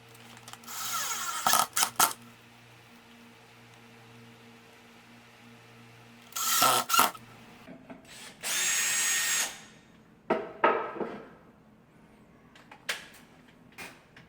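A power drill drives screws into a wall while a wall shelf is being hung, with several short bursts and one longer steady whir separated by quiet pauses.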